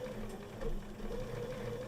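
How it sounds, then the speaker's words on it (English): A sewing machine doing free motion quilting runs steadily close by, a fast continuous mechanical whir with a rapid needle chatter and slight speed variations. "all I'm doing is free motion quilting"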